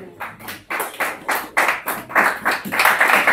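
A church congregation claps together in steady rhythm, about eight sharp, loud claps growing slightly fuller and denser toward the end, with no speech over them.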